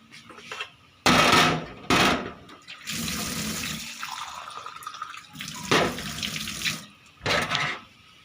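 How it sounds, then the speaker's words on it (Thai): Water gushes in several bursts into a cooking pot for a Thai herb and egg dish, loud and close, each pour starting abruptly and splashing before stopping, with short pauses and clunks between them. "เอาน้ำใส่อีกสักหน่อย"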